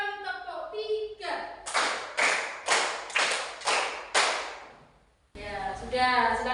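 Children in a classroom clap together six times in two groups of three, loud and evenly paced, as a teacher's voice leads before and after.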